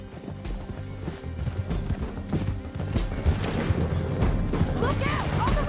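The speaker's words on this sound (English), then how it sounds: "Get him on your horse." A horse gallops in the video game Red Dead Redemption 2, its rapid hoofbeats pounding steadily and loudly. Game dialogue and score play over the hooves, with a whinny rising near the end.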